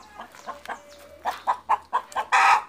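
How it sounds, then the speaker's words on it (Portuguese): Backyard hens in a rural garden cluck loudly in a rapid run of sharp, repeated calls, growing louder toward the end with a burst of squawking, close by and without any talk. "Minhas galinhas escandalosas."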